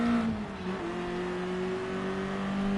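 Racing car engines from the game GT Sport run through a corner alongside a Mazda and a Subaru. Steady droning engine tones at high revs hold close and loud, pitch dipping and rising slightly, with no talk.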